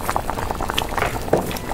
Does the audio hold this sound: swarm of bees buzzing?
no